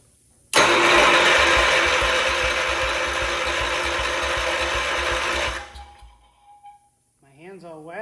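Wheel Horse C-125 garden tractor engine cranking over under its starter, a loud fast steady churning whir lasting about five seconds before winding down, with a voice afterward.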